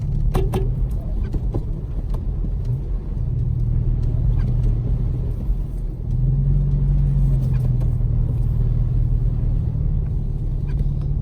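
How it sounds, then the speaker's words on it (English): A Jeep Cherokee drives past on a snow-covered road in Big Bear, giving a steady low rumble of engine and tires that swells slightly midway. Faint clicks and knocks sit over it, and there is no talking. "That was my neighbor, Matt, who just passed us in that Jeep Cherokee."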